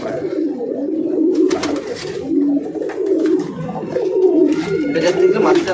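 Pigeons coo in a home loft, throaty overlapping calls running steadily while people talk nearby.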